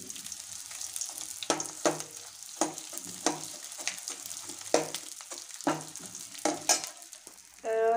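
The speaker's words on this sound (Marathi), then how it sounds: "संपूर्ण डिंक तुम्ही तळून घ्या।" Edible gum (dink) frying in ghee in a pan, a soft steady sizzle punctuated by repeated sharp crackles and stirring scrapes at close range.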